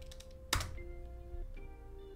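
A short burst of keystrokes on a computer keyboard while entering a command, quiet and close, with a slightly sharper key clack near the start and a faint electronic hum underneath.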